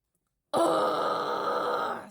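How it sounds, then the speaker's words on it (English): A single long, forceful breath pushed out through the mouth, starting abruptly after silence and rasping steadily for over a second before trailing off. "taking a deep breath in and then a little bit more and then exhaling audibly so it rattles your lungs"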